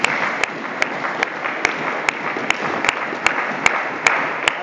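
A church congregation applauds together, steady and moderately loud, with a few sharper claps standing out at regular intervals above the crowd.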